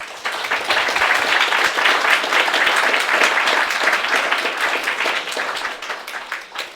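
Audience applauding after a talk at a careers fair, a dense, lively burst of clapping that swells quickly, holds, then gradually thins out.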